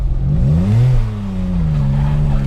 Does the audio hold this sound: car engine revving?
yes